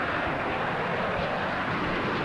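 A seed plane from the war strategy game Warno passes overhead, its engine a steady, even roar that holds at one level throughout with no other sounds.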